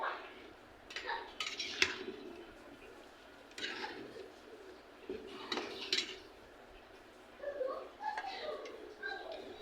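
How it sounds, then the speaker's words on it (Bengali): Radish and lentil dal with green chilies being stirred in a cooking pot, with intermittent soft clinks and scrapes of a utensil against the metal in short bursts, heard close up at low volume. "ভালো করে নেড়ে নিব।"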